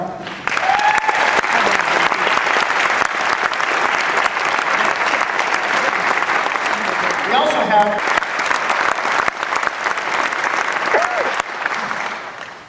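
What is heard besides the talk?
audience applause for veterans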